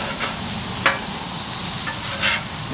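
Whiting and salmon fillets fry on a Blackstone griddle in oil with a steady, continuous sizzle, broken by a couple of brief scraping stirs of a spatula close by.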